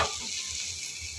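A tadka of whole cumin, turmeric, salt and garam masala sizzles in a pan with a brief, steady, close hiss of frying and no talking.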